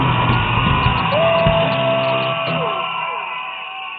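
A large crowd yells and whoops at a live stage event, loud sustained shouting with a tonal whistle-like note sliding through the middle, fading slightly toward the end.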